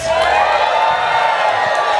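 Comedy club crowd at the Frog and Bucket whoops and cheers loudly on cue, a short, sustained swell of high yells and shouts close in the room.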